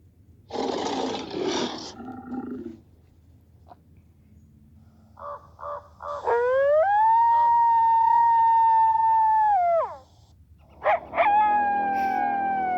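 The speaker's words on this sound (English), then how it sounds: "The coyote, the barking dog." Sharp coyote yips give way to long wavering howls that rise and hold, a wild canine chorus calling out in an open quiet setting.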